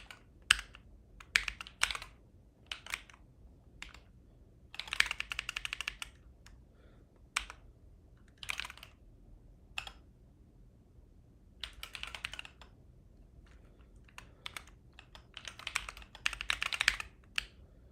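Keys clatter on a computer keyboard during a live stream, coming in irregular bursts of rapid typing separated by short pauses, close and fairly quiet, with no talking.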